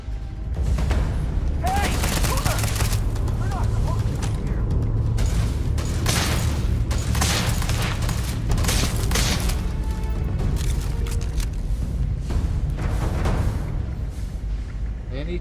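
Gunfire in the sci-fi game Starfield: repeated bursts of shots and booms spread across the scene, mixed with mechanical game effects and a voice talking over the action.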